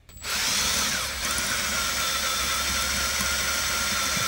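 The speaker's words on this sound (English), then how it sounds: "So we're gonna be using left-handed drill bits today." Power drill with a left-handed bit boring a pilot hole in soft metal, starting abruptly and then running as a steady, loud, continuous whine and grind.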